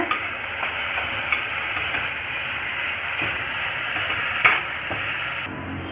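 Steady sizzling and hissing of onions frying in a pan, continuous and close, with a few faint clinks of stirring.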